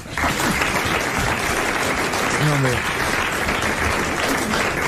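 Studio audience applause on a 1992 French television talk show. Steady, dense clapping fills the whole stretch at close range, with a brief voice heard within it.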